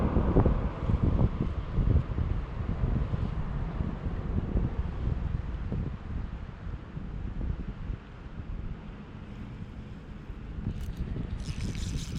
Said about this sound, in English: It's an extremely windy day.